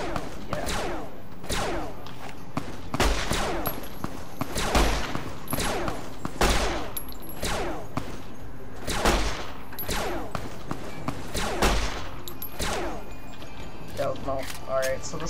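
A gunfight in the video game Fallout: New Vegas, with repeated sharp gunshots at irregular intervals, some in quick bursts, loud and close, and someone talking over them.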